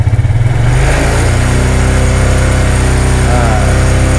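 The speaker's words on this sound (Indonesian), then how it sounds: "Tapi saat saya tambahkan RPM-nya" A motorcycle engine revs up from idle to a sustained higher RPM, loud and close, holding a steady raised drone for several seconds.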